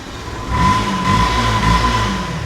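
A Yamaha FZ V2 motorcycle engine runs close by for a moment, a steady mid-pitched hum with a slight swell in loudness and no talking over it.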